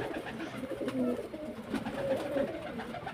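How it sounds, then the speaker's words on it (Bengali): A pair of Jiriya Napta pigeons coo close by, soft throaty rolling coos repeating over a faint background murmur. "একজোড়া জিরিয়া নাপ্তা পায়রা দেখতে পাচ্ছেন"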